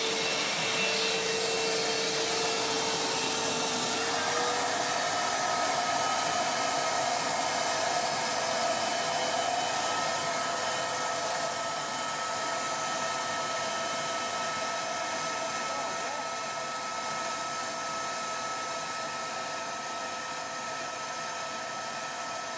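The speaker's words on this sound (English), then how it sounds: "So I've just turned the vacuum cleaner off." A vacuum cleaner used for vacuum forming roars steadily and loudly throughout with a broad whooshing hiss and a faint whine, keeping an even level with no talk.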